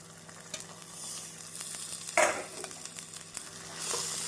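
Turkey berries sizzle quietly in a pan while a utensil stirs and scrapes, with one sharper clatter midway.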